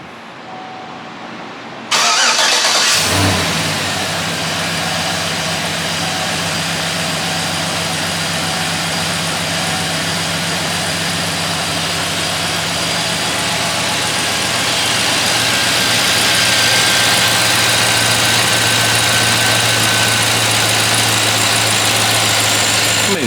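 A 5.3-liter V8 engine in a 2007 Chevy Tahoe, freshly replaced, cranks briefly, fires up with a roar, then settles into a steady, deep idle that hums on loudly for the rest of the time.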